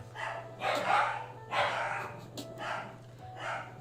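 An excited pet dog barks in a row of five or six loud, hoarse barks at a steady pace, over a constant low electrical hum indoors.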